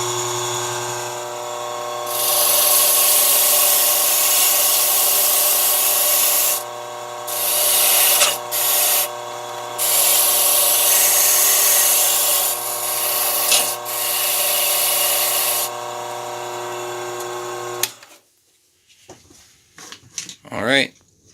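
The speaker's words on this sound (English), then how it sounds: "So I'm just going to go ahead and use this wire wheel here." A wire wheel deburring a freshly cut high-security key blade, a loud steady whirring grind held close for about eighteen seconds with brief dips as the key is lifted away, then stopping, with someone speaking at points.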